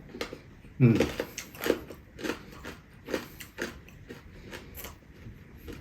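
Crunchy biting and chewing of bagnet pork cracklings, a loud crack followed by several crisp crunches in an irregular rhythm, close to the ear, with a voice speaking over parts of it.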